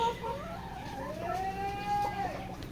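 Layer hens and roosters on a poultry farm cluck and call continuously, with one drawn-out, rising vocalization in the middle, heard fairly close with no talking.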